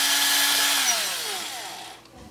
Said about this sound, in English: So let me get this hole drilled.